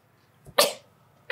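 A single sharp sneeze bursts out nearby in a quiet room, preceded by a short intake of breath and followed by the start of another noisy sound.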